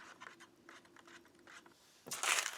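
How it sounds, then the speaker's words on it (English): A spoon stirs hot water in a cup while preparing a Polish S-RG-3 field ration drink, giving soft scraping swirls that end in a louder, brighter scrape, close and without talk. "and we'll give this a stir."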